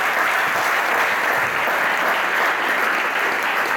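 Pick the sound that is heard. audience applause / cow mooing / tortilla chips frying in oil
audience applause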